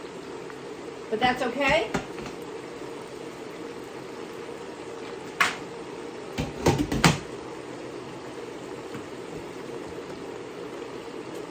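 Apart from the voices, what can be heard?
rinsed broccoli rabe splattering in hot olive oil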